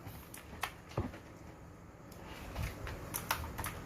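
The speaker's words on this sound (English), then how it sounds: "Look at this keyboard." Scattered keystrokes on a QWERTY computer keyboard, a few soft irregular taps and clicks over a low room hum during a live business lecture, fairly faint with no talking.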